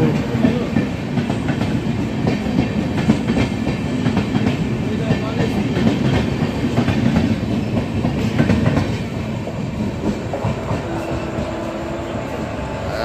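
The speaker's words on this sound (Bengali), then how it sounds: "ট্রেন রওনা দিল।" Jalpaiguri–Sealdah Humsafar Express pulling away, a steady, loud rail rumble with wheel clatter that holds for about nine seconds, then eases to a lighter rolling drone.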